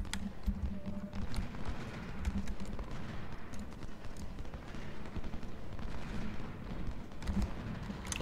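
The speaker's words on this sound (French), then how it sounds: "Là-bas, on prend des coups de canon, j'aime pas bien ça." Cannon fire in Ultimate General: Civil War, an American Civil War battle at Gettysburg, rumbles as dense, continuous booming salvos and scattered musketry, steady and loud throughout with no talk.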